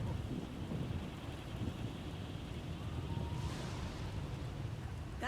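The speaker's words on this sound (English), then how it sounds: "The lightning strikes can be deadly out here." A thunderstorm rages in a Star Wars video game set among the Sith, with steady heavy rumbling and rain noise throughout and a sharp crackling lightning strike near the end.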